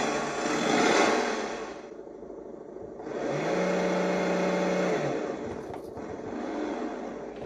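Simulated engine revving from a Sense Innovations ESS Dual RC sound system, surging in two loud bursts of throttle with a steady whirring tone between them and a softer rev trailing off at the end.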